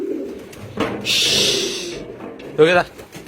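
Damascene pigeons cooing in a loft, low soft coos near the microphone mixed with a burst of rustling noise and a short voice-like call.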